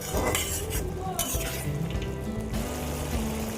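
A spoon stirs small fish frying in a pan for a spicy curry with raw tomatoes. The sizzle is steady and close, with scraping and clattering against the pan that lasts for a few seconds.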